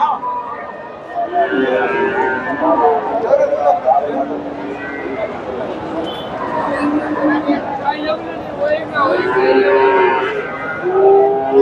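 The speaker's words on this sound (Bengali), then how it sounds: "এখানে একটা দেখেন মাসাল্লাহ সুন্দর একটা গরু ফ্রিজিয়ান" Medium-sized Friesian bulls low repeatedly with drawn-out moos at a busy cattle market in Bogura. A constant babble of voices and crowd noise runs underneath.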